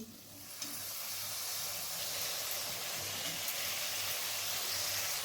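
Chopped green chilli and tomato fry in a pan with ginger, garlic and onion for mutton keema tadka, giving a soft, continuous sizzle and hiss that starts faint and then holds steady close by.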